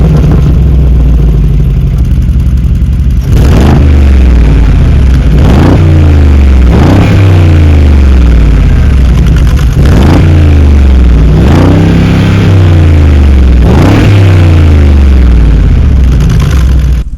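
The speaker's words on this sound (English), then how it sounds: "let's actually take a listen to the exhaust" A 2021 Mercedes-AMG G63's side-exiting exhaust revving, loud and close, with about seven evenly spaced throttle blips that each climb and fall back to a deep idle.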